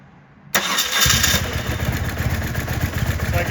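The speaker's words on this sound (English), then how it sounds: "So let's fire the bike up." After a brief quiet moment a BMW R1100S motorcycle engine cranks and fires up abruptly, then settles into a loud, rapid, uneven idle close by, its throttle bodies out of sync.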